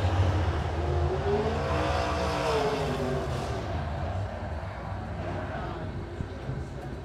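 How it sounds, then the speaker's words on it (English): A Modified race cars circle a speedway, engines droning and revving at a distance with a sweeping pass, mixed with crowd and track ambience and a faint voice under the noise. "Next group of A Modifieds coming out onto the speedway"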